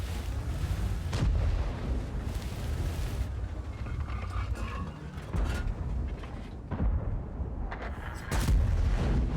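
Tank gunfire in a German heavy tank video game, heavy booming shots and blasts recurring over a loud rumbling battle soundscape, with no talking.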